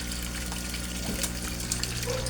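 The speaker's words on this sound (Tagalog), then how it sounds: "Ang filtration system ko guys, pinaglass ko para magandang tingnan" A glass-covered koi pond filtration system with a UV light runs steadily, giving a continuous wash of flowing, trickling water close by with no one speaking.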